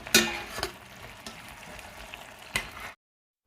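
Chicken frying with garlic and ginger paste in a karahi, a steady sizzle with a few sharp stirring clatters near the start and again toward the end, close and fairly quiet.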